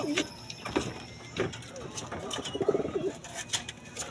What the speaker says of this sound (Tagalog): gusto nyo na makita talaga ang ating kalapatis na maganda